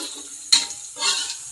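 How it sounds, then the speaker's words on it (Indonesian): Shallots frying in a pan for a potato vegetable soup give a steady close sizzle, with a sharp clatter as they go in and a louder crackling swell toward the end; no one talks. "Goreng brambang"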